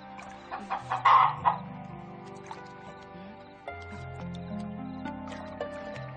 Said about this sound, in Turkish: Bu tavuk ne arıyor burada?